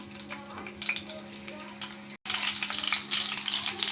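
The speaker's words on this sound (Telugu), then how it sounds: "ఇప్పుడు ఇందులోనే పచ్చిమిర్చి చీలికలు వేసుకుంటున్నాను" Green chilli slits fry in hot oil in a pan, a dense, steady crackling sizzle close by that cuts out for a split second midway and then resumes just as busily.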